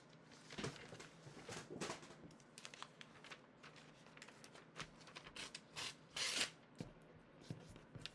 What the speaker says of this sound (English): If I was to take this ordinary piece of paper and tear it